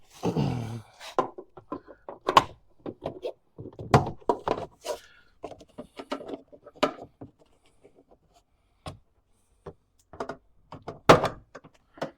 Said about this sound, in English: Pull on the door.